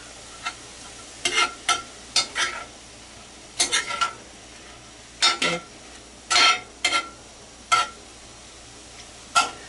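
Chicken taco filling is stirred in a pan, with a spoon scraping the bottom in short repeated strokes over a faint sizzle and irregular metallic clinks close by.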